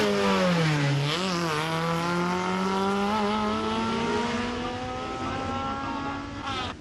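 A Fiat 126 races at the 38th Coppa Sila hill climb. Its small engine revs loud and close in one sustained run, the pitch dipping briefly and then climbing steadily for several seconds.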